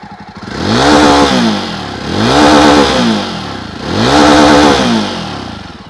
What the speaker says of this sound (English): And that's how it sounds like near its red line.